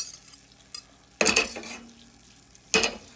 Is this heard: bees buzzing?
no